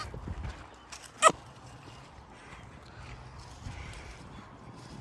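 Horses on a rural move between camps, hooves clip-clopping softly on the ground, with one sharp knock standing out near the start amid low background activity.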